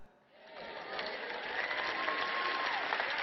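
Audience applause from a large crowd at a Christian teaching event, rising from a quiet start into steady, sustained clapping that fills the hall for the rest of the moment.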